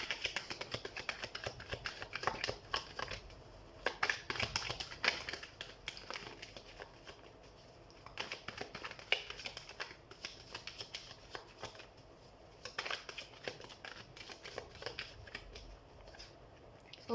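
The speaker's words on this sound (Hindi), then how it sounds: "तो हम सबसे पहले कार्ड शफल कर लेते हैं।" Tarot cards are shuffled by hand in a long run of soft riffling and flicking bursts, close and fairly quiet, with brief pauses between shuffles and no talk.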